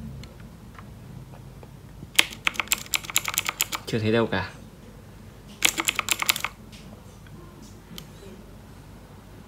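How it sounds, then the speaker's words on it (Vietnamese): Bursts of typing on a computer keyboard during a test of a used gaming PC build, with rapid clustered keystrokes in two runs and a brief scraping handling noise between, while someone speaks nearby. "Bàn phím này."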